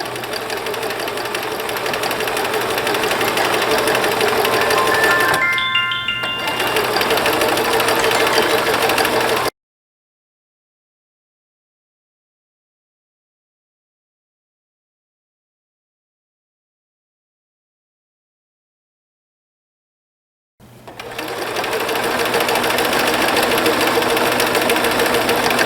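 Sewing machine running a zigzag stitch on wide lace for a copied blouse, a loud close rapid mechanical chatter that runs steadily, breaks off into a long silence, then starts again.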